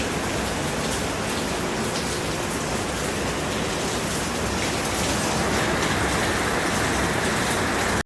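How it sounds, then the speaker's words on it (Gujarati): Heavy, steady rain pours down continuously, a dense hiss close by with no breaks and no voices. "એટલો વરસાદ આવે છે અત્યારે"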